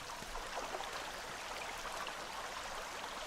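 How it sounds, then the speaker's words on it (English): Steady rain falls outdoors in the horror video game Anna, a constant even hiss of drops with no voices over it. "we're outside again and it's raining"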